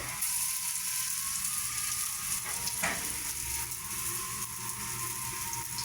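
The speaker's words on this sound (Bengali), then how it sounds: "আস্তে আস্তে কিন্তু এগুলো ভাজতে হবে" Corn fritters fry slowly in a pan of oil, giving a dense, even sizzle that stays loud and close from start to finish with no one speaking.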